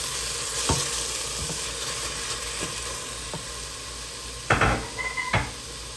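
Beef sausage sizzling in a pan with olive oil, a steady close frying hiss punctuated by occasional utensil taps and a louder scraping stir near the end.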